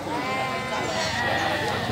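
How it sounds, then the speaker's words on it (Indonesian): Garut goats bleating loudly at a livestock market, several overlapping calls forming a steady dense chorus, with people talking under the animal noise. "Ini buat kambing Garut."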